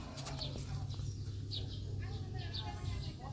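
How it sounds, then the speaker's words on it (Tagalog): Birds give short, bright chirps at intervals around an old stone church in the Philippine provinces. The calls are faint against a steady low hum, and people talk nearby. "Yun yung mga ibon."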